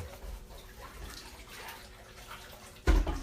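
Liquid starch pours into homemade fluffy slime in a soft, steady trickle close by, followed by a sudden louder knock or splash at the very end.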